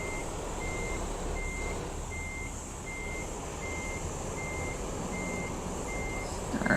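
Steady, evenly spaced reversing beeps from a truck in American Truck Simulator, repeating about every three quarters of a second over a low engine rumble, with a word spoken briefly near the end.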